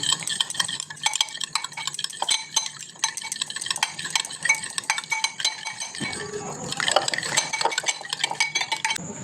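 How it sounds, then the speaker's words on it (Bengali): Egg being beaten with a spoon in a bowl for pudding, a rapid, steady clinking of metal against the bowl that runs the whole time, close and fairly loud, with no talking. "ডিমটাকে ভালো করে আমি চামচ দিয়ে ভালো করে ফাটিয়ে নিচ্ছি।"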